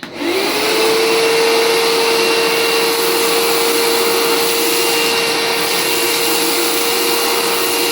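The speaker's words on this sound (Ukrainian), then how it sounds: "Зараз я тобі покажу, що таке справжнє прибирання з новим пилососом від GTM." A new GTM vacuum cleaner runs loudly and continuously, spinning up within the first moment into a steady high whine over a broad rushing hiss, with no talk.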